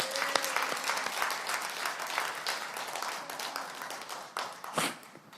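A church congregation breaks into applause after a sermon, a dense wash of many hands clapping steadily for several seconds at moderate distance, with a brief faint voice near the start.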